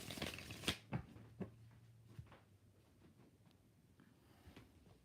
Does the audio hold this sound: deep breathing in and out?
no